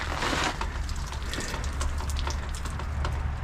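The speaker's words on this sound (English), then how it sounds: "So we're going to get the hose down now and flush this." Water from a hose gushes steadily to flush out a backed-up, leaking drain hole, a dense continuous spray and splatter with no talk over it.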